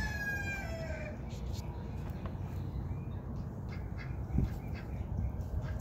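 Chickens on Celestial Farms in Jacksonville, Florida, with a rooster crowing near the start, short high calls over steady outdoor background noise, faint and somewhat distant amid low murmuring.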